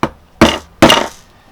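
A hammer strikes three times in an even rhythm, each tap a sharp, close crack that rings briefly and fades, with no talking.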